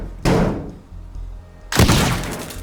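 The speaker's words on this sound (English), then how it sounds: "And then obviously the lamppost falls, doesn't it, onto the wire" In the video game Teardown, a lamppost topples onto a wire, landing as two heavy thuds about a second and a half apart, each ringing off briefly.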